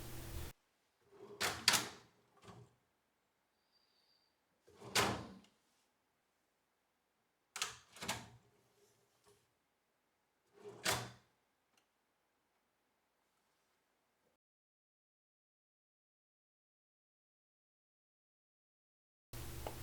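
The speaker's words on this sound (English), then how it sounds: "Then I just drop the drawer onto the runners, push it into the cabinet." A drawer on Blum Movento tip-on soft-close runners slid into a cabinet, heard as several separate knocks, clicks and short slides spaced over a few seconds, fairly faint with silence between.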